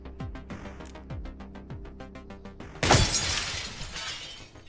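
In a shooter video game, a run of quick, evenly spaced thuds gives way to a sudden loud crash of shattering glass, followed by bright tinkling debris that slowly fades.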